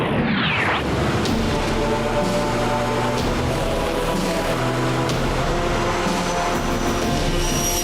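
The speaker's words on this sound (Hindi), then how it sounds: "3 फाइटर प्लेन तुम्हारी तरफ आ रहे हैं।" Three fighter planes in an animated action movie roar in as a loud, continuous jet rumble with a steady engine whine, filling the whole stretch without pause and with no talking.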